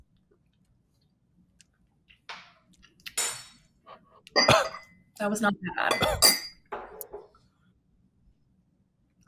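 Glasses clink together in a toast, a few bright, brief chinks mixed in with nearby conversation.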